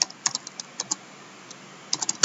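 Light typing on a computer keyboard while entering text in Microsoft Word, a scattering of close, crisp key taps with short pauses and a quick cluster at the end.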